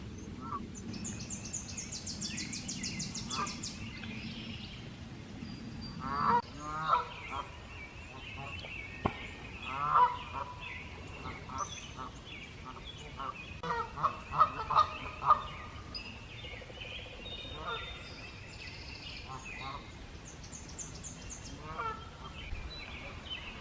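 Noisy honking and gabbling from a flock of geese near a lake in Jefferson Memorial Forest on a May morning, bursts rising and falling at moderate distance, with some quieter stretches between calls.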